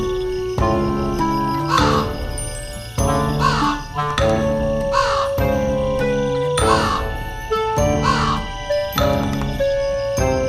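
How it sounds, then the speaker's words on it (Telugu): An animated folktale crow caws loudly, about six harsh calls in an even rhythm over bright, tinkling background music, with no talking. "కాకికి ఓపిక లేదు. అదే రోజున గట్టిగా అరవడం ప్రారంభించింది."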